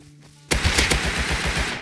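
An AK rifle fires in the game Rust: after a brief quiet moment, a loud, close burst of rapid automatic shots crackles on in a steady rhythm to the end.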